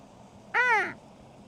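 A single crow caws once in snowy Niigata near Urasa Station, a clear, harsh call rising and falling over a quiet background.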